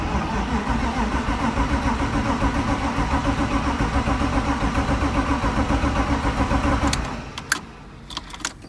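A BMW E36 with an M50 engine, just back from a gasket change, runs steady and loud for about seven seconds before cutting off, followed by a few faint clicks and knocks.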